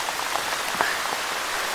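Heavy rain falls in a forest near a village, a steady close hiss of downpour with occasional distinct drops striking leaves and ground.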